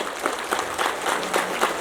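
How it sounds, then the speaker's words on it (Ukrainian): A crowd at a harvest festival claps for the Armed Forces of Ukraine, brief, lively applause with a few accented claps rising out of the steady patter at moderate distance. "оплески Збройним силам України"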